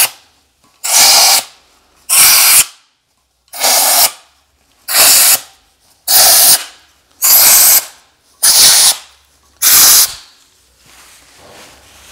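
An air line blasts compressed air in eight sharp, evenly spaced bursts to clear deposits and debris off an N54 engine block, each loud hiss lasting about a second with short silences between.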